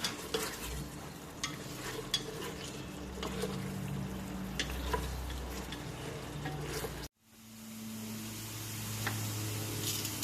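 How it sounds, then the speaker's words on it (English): Pork pieces for humba sear in a hot pan, a continuous crackling sizzle with scraping stirs, cutting out abruptly near the end before a quieter hiss returns. "we sear the pork until it's golden on the edges"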